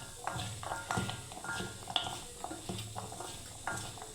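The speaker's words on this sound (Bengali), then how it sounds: "আমি ভালোভাবে আবার মাখিয়ে নিচ্ছি বন্ধুরা" Chickpeas being mixed by hand with flour and cornflour coating in a bowl, with quiet rhythmic stirring, scraping and light clinks at close range.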